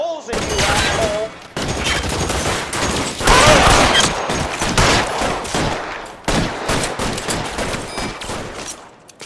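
Rapid gunfire in the PS5 version of L.A. Noire, dense bursts of shots crackling almost continuously and loudly across the whole stretch, with a voice shouting over parts of it.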